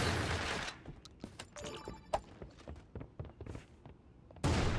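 Shotgun blasts in a close-range fight in the battle royale game Creative Destruction: several sharp, loud reports spaced irregularly, with scattered footsteps and thuds between them and a burst of noise at the end.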